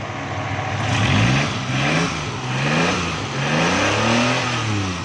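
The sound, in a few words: Suzuki Khyber pickup engine running after gas adjustment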